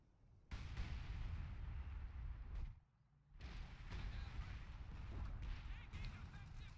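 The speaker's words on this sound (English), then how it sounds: "A barrage is coming in the middle here." A British mortar barrage in a World War II game set at Colombelles during the Battle for Caen: loud, sustained rumbling blasts and booms run almost continuously, with one brief lull in the middle.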